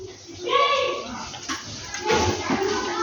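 Pabda, amudi and puti fish are washed by hand in water, splashing and sloshing sounds mixed with someone talking over the top.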